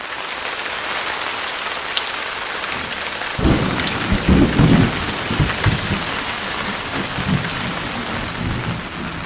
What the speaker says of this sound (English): we were hit with our second storm on Sardinia with severe rains and winds again